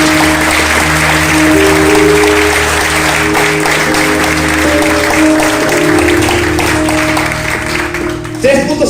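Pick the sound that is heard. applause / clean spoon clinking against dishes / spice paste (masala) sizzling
applause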